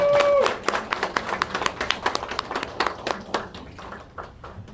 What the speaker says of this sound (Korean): 심찬 박수로 로키 원장님을 맞이해 주시기 바랍니다